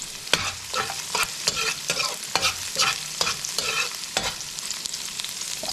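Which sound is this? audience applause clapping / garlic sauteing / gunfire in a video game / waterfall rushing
garlic sauteing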